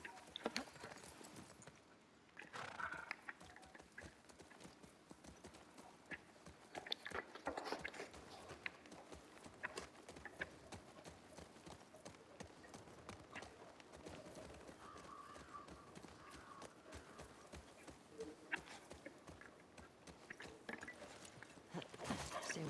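Horse hooves clip-clop at a steady walking rhythm in The Last of Us Part II, alongside soft creaks and mechanical clicks, with quiet game voices now and then.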